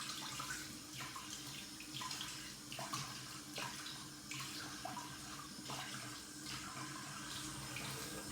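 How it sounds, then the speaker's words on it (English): Cold tap water runs steadily into a sink for a post-shave rinse, a continuous close splashing hiss with small gurgles and shifts in the flow, no voices. "I'm gonna go cold rinsing as well"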